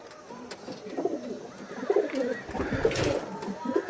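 Pigeons coo repeatedly at close range among paired breeding birds in a loft, soft low rolling calls recurring over a faint background rustle with no talk.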